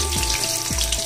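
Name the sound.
onion and whole spices roasting in pan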